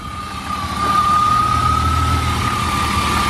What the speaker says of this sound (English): You're probably hearing the flywheel.